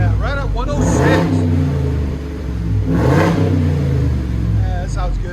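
Ford F-350 with a 7.3L gas V8 and aftermarket exhaust revving in two loud swells and settling back to a rumble between them, recorded up close, with people talking over it.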